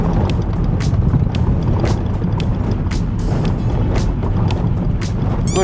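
Strong wind on a very windy day buffets the microphone with a loud, steady roar and rumble, broken by repeated gusty thumps throughout.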